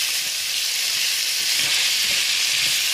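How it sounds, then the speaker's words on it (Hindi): Vegetables fry in hot oil for vegetable rice, a loud continuous close sizzle with faint stirring knocks underneath and no talking. "बस ऑयल गर्म हो गया, साथ ही सब्जियां डाल"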